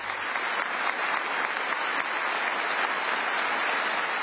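A huge crowd applauding steadily and loudly at a memorial tribute in Sydney, a dense unbroken wash of clapping from start to finish with no voices standing out.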